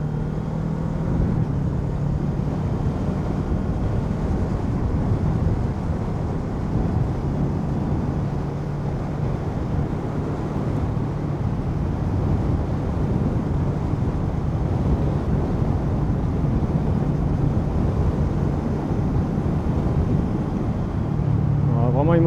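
Kawasaki Z650 motorcycle with an Akrapovic exhaust riding along, giving a continuous steady engine drone with wind noise, sustained at moderate level with no speech.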